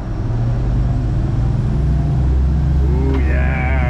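A Cruisers 39 EC boat with twin Volvo IPS 500 engines accelerates at full throttle, a loud, steady low engine drone with rushing water and wind, and a rising whine near the end.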